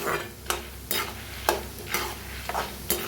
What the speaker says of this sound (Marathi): दाळग्यालाही लय भाजायचं नाही जरा भाजली तर चालते